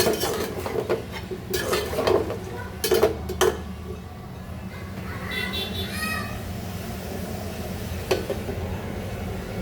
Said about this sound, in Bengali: নেড়ে চেড়ে ভালো করে মিশিয়ে দিব।